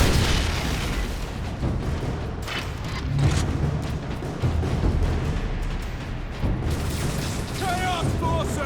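Grenade blasts and heavy combat din from Warhammer 40,000: Space Marine, a dense continuous roar of booms and bursts with shouting voices mixed throughout, loud and close for the full stretch.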